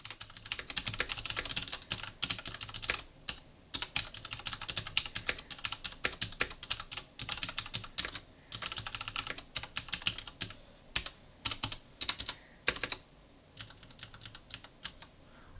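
Steady typing on a Cooler Master Masterkeys Pro S keyboard with Cherry MX Brown switches, muted, rounded clacks in quick bursts and brief pauses, close and fairly quiet, with no voices.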